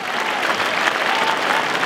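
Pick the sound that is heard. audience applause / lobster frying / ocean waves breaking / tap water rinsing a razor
audience applause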